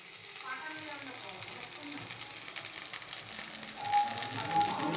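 Washed leafy greens are added to a hot pan already holding ginger and chilies, giving a steady broadband sizzle of frying that runs throughout at moderate volume.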